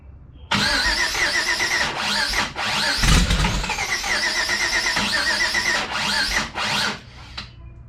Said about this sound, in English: So let's see if he starts up now.